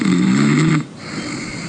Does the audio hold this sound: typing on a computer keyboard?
no